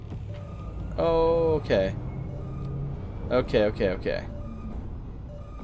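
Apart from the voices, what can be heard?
alarm triggered in the video game Starfield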